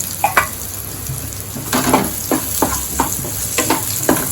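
Shredded coconut crackling and sizzling as it is lightly roasted in a hot pan, with a spoon scraping and stirring in uneven strokes over a steady hiss.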